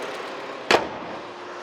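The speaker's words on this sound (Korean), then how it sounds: "엔진 소리 한번 들려드릴게요" A Hyundai Grandeur large sedan with about 90,000 km idles with a steady, moderate hum, broken by a single brief sharp click midway, with no voices.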